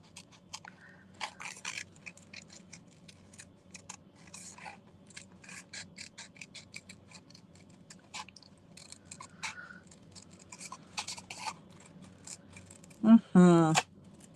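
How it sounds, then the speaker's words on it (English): Scissors snip steadily through paper while fussy cutting out a small turtle shape for a greeting card, a quiet run of close, irregular clicks and crunches, ending in a short louder burst of handling. "Let's see if I can fussy cut this turtle."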